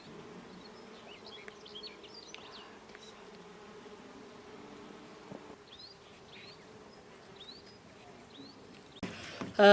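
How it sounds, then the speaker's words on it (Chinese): Faint bee buzzing hums steadily around a flowering vine in the background of a quiet outdoor scene, with scattered bird chirps and a louder rustle at the end. "现在都开花了，蜜蜂特别的多，都在采蜜了。"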